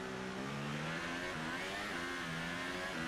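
A McLaren F1 race car in the F1 2018 video game at the Italian Grand Prix revs through rising, high-pitched engine sweeps that climb and reset with gear changes, steady and moderately loud.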